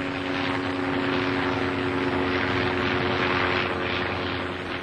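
Sopwith Camel biplane with a rotary engine, a continuous, loud, steady propeller-engine drone with a strong constant hum that holds unchanged throughout.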